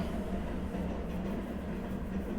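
A passing train gives a continuous low rumble with faint rhythmic rail clatter, steady and fairly loud throughout.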